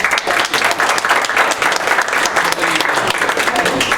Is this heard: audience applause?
yes